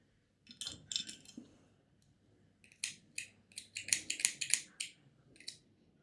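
Small scissors snipping crochet thread, a series of crisp metallic snips in two bursts, close and fairly quiet in an otherwise still room.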